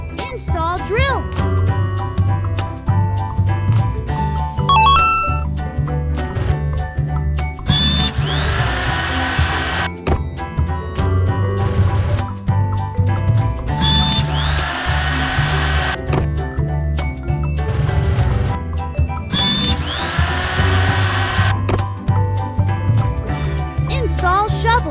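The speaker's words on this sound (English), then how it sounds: "Install drills." A power drill runs loud and close, whining in three long bursts that start and stop between steady layers of background music, with no voices.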